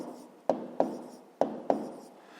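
Pen strokes writing numbers by hand during a fifth-grade maths exercise, with four short, crisp scratches at uneven intervals, each fading quickly. The sound is close and quiet, with no talking.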